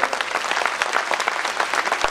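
A crowd at a public gathering in Gulbarga applauds together, a sustained patter of many hands clapping at a steady, moderate level throughout.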